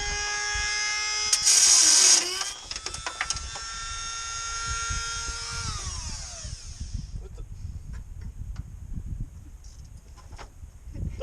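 A whining power drill runs at high speed drilling holes in a Ford F-150 truck for hood pins, then winds down, followed by scraping and handling noises nearby.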